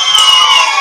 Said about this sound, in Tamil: எல்லாரும் கரகோஷங்களை தட்டி